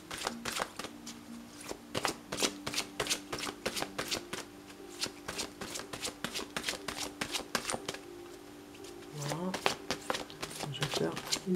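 Angel oracle cards are shuffled and cut by hand, a rapid run of crisp riffling flutters and soft slaps, close and steady, with a quiet voice speaking now and then.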